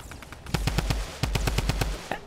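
Automatic gunfire in the Fortnite battle royale game: two loud, rapid strings of about a dozen sharp shots each, evenly spaced and close, with no talking.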